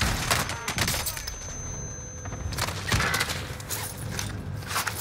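Gunfire from an enemy on a rooftop in the Warzone video game, heard as scattered distant bursts and booms over a busy game soundscape, with no talk.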